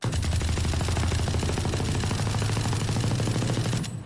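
A full-auto Valorant weapon fires a continuous rapid burst for about four seconds without recoil control, loud and close in the video game, then cuts off abruptly.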